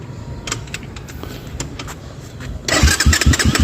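A Kayo T2 dirt bike's single-cylinder engine ticks over with scattered mechanical clicks, then fires up near the end into a loud, close, sputtering run with a rapid throbbing rhythm.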